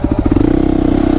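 A motorcycle engine revs hard during an accel turn on a steep climb, a loud close pulsing rasp whose rapid firing beats speed up and then hold in a steady throbbing drone.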